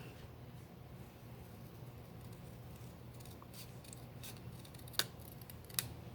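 Scissors trim around the edge of a stamped Christmas card, a steady soft snipping and rustle at close range with two sharper clicks near the end, no one talking.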